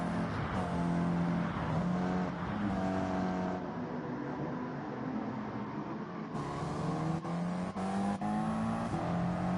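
Stock cars race at Blue Moon Bay Infield in a CASCAR Cup event in Gran Turismo 7, several engines droning and shifting pitch together in a continuous loud roar, with short gear-change breaks.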